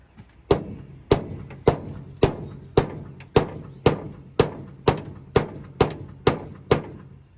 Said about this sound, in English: I got a hammer to hit the old starter button with